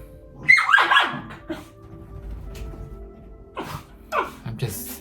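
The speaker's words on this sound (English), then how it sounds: "The dogs are playing" Dogs yip, squeal and growl playfully in short bursts, fairly close, with quiet pauses between the scuffling outbursts.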